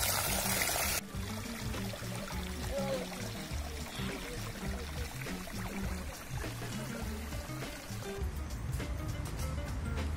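Steady rushing and pouring of hot spring water running continuously and fairly close, with a faint murmur of voices at times.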